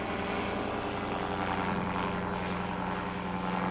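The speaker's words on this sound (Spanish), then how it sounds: "Utilizando un pequeño motor delta con forma de cóndor, nos elevamos sobre Sacsayhuaman" A small condor-shaped motorized hang glider flies over Sacsayhuaman, its engine a steady droning hum with a low tonal buzz, close and unbroken throughout.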